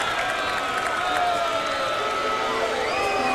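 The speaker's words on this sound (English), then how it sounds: "The crowd doesn't necessarily agree with it either" Basketball arena crowd at the 1991 Worlds men's final in Toronto reacting to a foul call, a steady, loud wash of mixed voices, whistling and shouts filling the whole moment.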